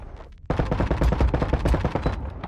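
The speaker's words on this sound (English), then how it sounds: "Let's just shoot one of these down here." Rapid automatic gunfire from a first-person shooter set in space, a sustained burst of closely spaced shots starting abruptly after a short quiet moment and running loud to the end.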